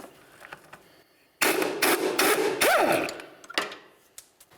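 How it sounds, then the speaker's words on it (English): A 15mm socket and ratchet work the sway bar link bolt on the rear suspension of a 1999-2003 Toyota Solara, giving a dense burst of close metallic clicking and clattering across a couple of seconds, framed by quieter shop noise. "I'm going to use a 15mm socket on this right here"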